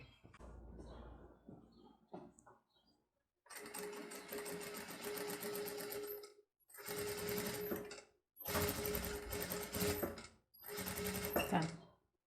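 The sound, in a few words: overlock sewing machine stitching a circle skirt hem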